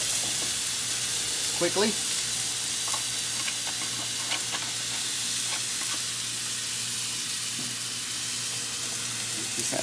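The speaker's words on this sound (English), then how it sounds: "saute these onions and the mushrooms off to the side here" Onions and mushrooms sauté in a pan set aside for making gravy, giving a steady soft sizzle with occasional stirring scrapes and clinks, and a brief spoken word partway through.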